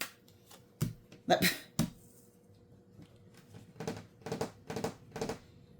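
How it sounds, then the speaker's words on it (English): Tarot cards are shuffled in a few quick riffling bursts, crisp and close, with a pause between handfuls, under quiet room tone. "Let's give it a shuffle and put some air in there."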